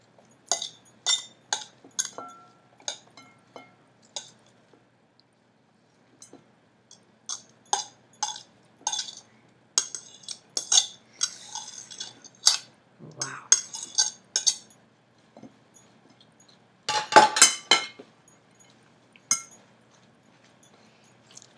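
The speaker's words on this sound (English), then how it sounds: "I'm going to add all the vegetables into my salad bowl." Chopped vegetables including green pepper drop into a salad bowl in a series of light clinks and clatters, separated by short quiet gaps.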